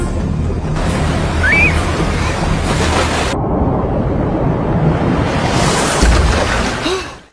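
River water rushes steadily through a film scene, a broad continuous wash of flowing water with a brief high whistle-like tone in the mix and no voices.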